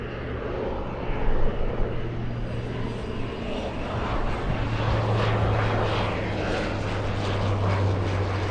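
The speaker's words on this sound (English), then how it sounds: "Let's go for the King Air on approach." A King Air turboprop on approach at LAX gives a steady propeller drone with a low engine hum, moderately near and continuous throughout with no talk.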